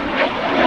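An Aermacchi MB-339 jet of the Frecce Tricolore aerobatic team lands, giving a brief, loud, broad engine roar that holds steady throughout.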